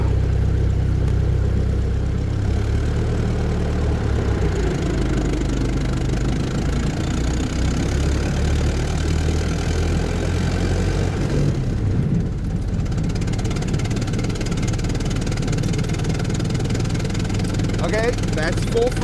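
Car engine pulling at full throttle up a small hill while driving into Paris from the west, a steady loud low drone with a brief dip partway through, and faint voices at moments.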